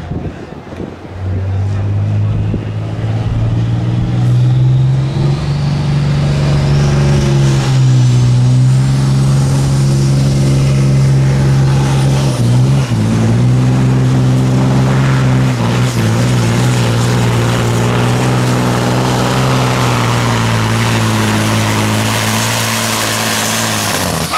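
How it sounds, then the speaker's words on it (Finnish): A Volvo engine in a tractor pulling run roars loudly and steadily, its revs climbing and dipping with wind buffeting the microphone, and no clear blast standing out. "näette nyt siitä, että miten se moottori räjähtää"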